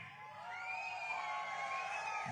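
A large crowd of the Indian community in Nigeria cheers and whoops steadily during a speech by Prime Minister Modi, a sustained, fairly loud roar of voices with no distinct claps.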